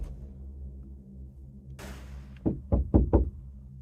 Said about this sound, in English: Right, there was a knock. Someone was trying the van door handles as well.